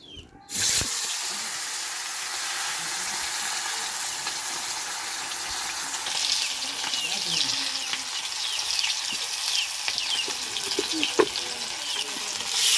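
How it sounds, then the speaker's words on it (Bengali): Chicken and fish pieces frying in oil on a clay stove, a loud continuous sizzle that bursts in after a brief quiet start and keeps crackling steadily, with occasional small pops. "এগুলো এখন তেলে ভাজবো একটা একটা করে।"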